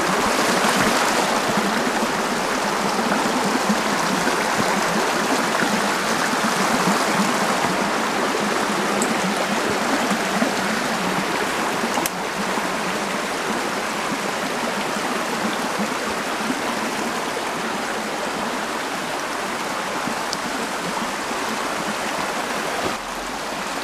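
A river in flood rushes past, a steady, dense roar of churning water close by that fills the whole stretch without a break.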